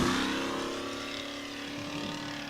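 Off-road race vehicle in a Big Sky 200 race in Broadview, Montana, engine droning loud and steady as it passes, tone slowly falling away over a couple of seconds.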